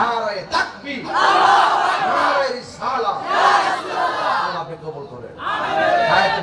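A large crowd at an Islamic religious sermon gathering roars takbir responses in loud, repeated chanted bursts, several waves of massed voices rising and falling, close and dominant.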